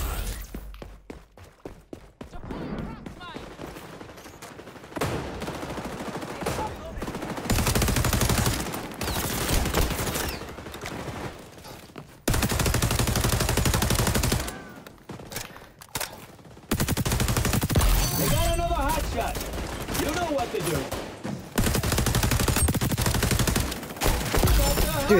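Automatic gunfire in the shooter game XDefiant, long loud bursts of rapid shots broken by short pauses, up close and intense, with bits of quieter game sound between the volleys.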